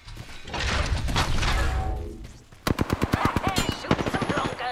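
Rapid automatic gunfire in the Apex Legends video game comes as a fast run of sharp, evenly spaced shots. A noisier burst of action and mechanical clatter precedes it.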